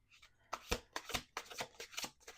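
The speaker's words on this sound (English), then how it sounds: "I'm going to do one more shuffle" A tarot card deck is riffle-shuffled in a few quick, crisp bursts of flapping cards, close up and quiet, with half the deck handled at a time.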